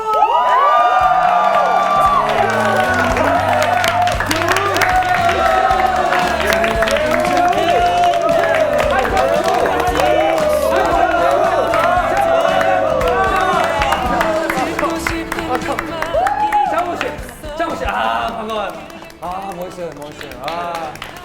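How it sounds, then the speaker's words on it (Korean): Audience applause and excited cheering welcoming a guest onto a Korean variety show stage, a loud sustained crowd roar with shrieks and music underneath, fading slightly toward the end. "큰 박수로 환영해 주시기 바라겠습니다."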